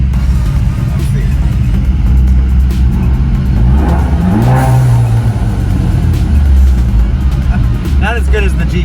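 A car's exhaust revs up and settles at Atlanta Motor Speedway, a loud, close engine drone with a rising, swelling rev in the middle, and people talking over it.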